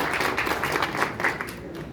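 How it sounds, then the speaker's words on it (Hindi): Audience at a political gathering clapping to welcome a former MLA, moderately quiet scattered applause that tapers off toward the end. "आप लोग जोरदार तालियों से पूर्व विधायक जी का स्वागत कीजिए।"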